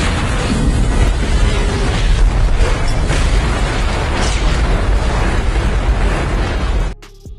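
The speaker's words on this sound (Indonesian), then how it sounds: "Stanley yang melihat bazooka yang ada di dalam bus, dia pun mengambil bazooka itu dan menembak helikopter yang dinaiki Gabriel." A helicopter blows up in midair after a bazooka hit in an action film, a loud sustained roaring blast with rumbling debris that fills several seconds before cutting off abruptly.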